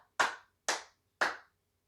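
Three sharp, evenly spaced hand claps, each crisp and close with a short decay, used as body percussion in a children's song lesson, with silence between the claps.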